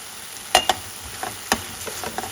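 Tomato and green chilli sautéing in a pan with turmeric powder for a Kerala egg puff filling: a low background sizzle broken by a few sharp spoon clinks and scrapes.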